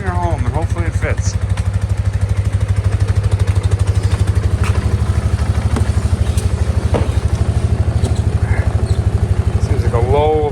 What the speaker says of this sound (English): Use a four-wheeler to bring her home, and hopefully it fits.